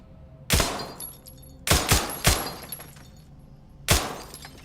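Four sharp, loud gunshots fired in Garry's Mod, two spaced singles followed by a close pair and a final shot after a pause, each with a crisp crack and a brief ringing tail, no talk.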